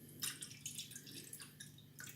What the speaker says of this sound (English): and then a cup of white vinegar.